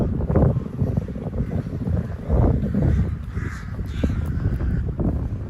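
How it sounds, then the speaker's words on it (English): Crows caw repeatedly in a cemetery in Vienna, harsh calls scattered at mid-distance over strong wind buffeting the microphone. "Look at all the crows."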